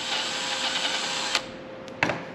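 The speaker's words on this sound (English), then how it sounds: "I did grab a number 17 drill bit, and I'm going to try and drill these out" A power drill with a number 17 bit drills out holes on a Chevrolet or GMC trailer brake and light setup, giving a steady, loud whir that cuts off abruptly, followed by two brief bursts.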